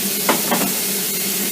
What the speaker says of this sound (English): And give it a nice little sizzle.